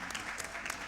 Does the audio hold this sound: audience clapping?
yes